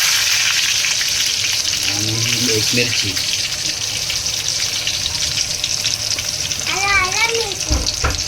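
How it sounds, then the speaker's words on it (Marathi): Garlic and curry leaves for a tempering crackle in hot oil while prawn masala is being made, a steady close sizzle running throughout as a person speaks briefly over it. "तर तेल चांगलं गरम झालेलं आहे आता त्याच्यामध्ये आपण टाकूया आता फोडणीला लसूण इथे कढीपत्ता"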